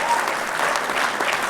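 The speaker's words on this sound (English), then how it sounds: "Let's give Louis a big round of applause for doing that." A sports hall of fame crowd gives Lou Ferrigno a brief burst of steady applause, dense and close throughout.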